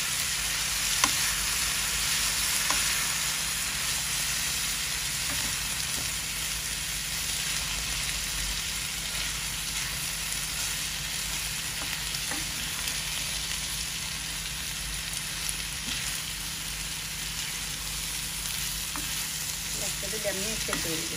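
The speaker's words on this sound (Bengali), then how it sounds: "মূলাটা দিয়ে একটু নাড়াচাড়া দিয়ে ডাকতে দেবো" Radish sliced into a pan of browned spice masala and stirred while it fries, giving a steady, close sizzle and crackle throughout with faint scraping from stirring and no talk.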